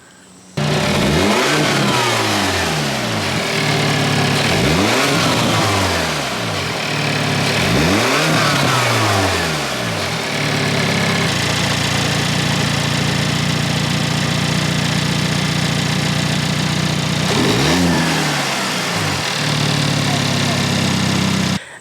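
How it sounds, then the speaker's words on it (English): A Hyundai Elantra N engine fitted with an SXTH Element intake revs hard several times in quick bursts, holds a steady drone, then revs again. The sound is loud and close throughout. "going to give you a video of before and after the intake"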